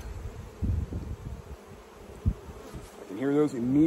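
A dense, continuous hum of buzzing honey bees leaving a hive under a fume board during honey harvest, with occasional low thumps, and a voice briefly speaking near the end.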